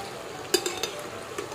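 Leftover idli snacks deep-fry in well-heated oil over a high flame, giving a steady, close sizzle with a few brief utensil clinks near the start.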